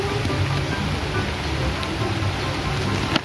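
Rain falls steadily as a dense, even patter on a surface, close and constant throughout the short stretch.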